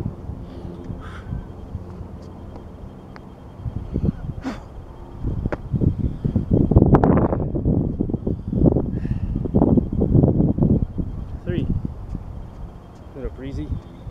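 Wind blows outdoors as a person does burpees and squats. Gusty, rumbling buffeting swells strongest in the middle of the stretch, heavy and close, with a voice talking briefly over it.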